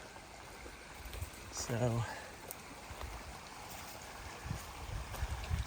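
A shallow river runs over rocks, a steady close rushing and burbling wash that continues throughout while someone speaks briefly over it.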